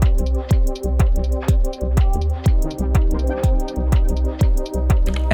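Electronic jam on an Elektron Digitone and Digitakt, with a steady, punchy drum machine beat driving evenly spaced kicks under sustained synth tones, loud and close with no talking.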